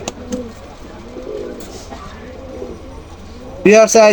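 Pakistani high-flyer pigeons coo softly through most of the stretch, a low murmuring under background noise, with a louder burst of sound near the end.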